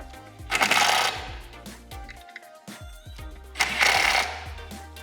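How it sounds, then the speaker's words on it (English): Impact driver tightening screws on a Minn Kota Ultrex Quest trolling motor mount, two loud buzzing hammering bursts of about a second each, separated by a pause. "I'll just take my impact and give them a couple clicks just to make sure everything gets good and tight"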